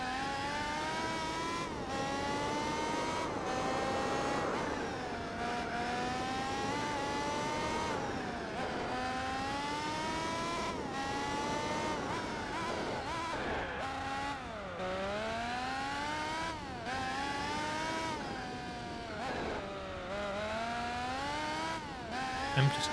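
A race car engine in Gran Turismo 4 screams near and loud through repeated rising revs and gear-change dips while being pushed hard during a championship race, with no talking.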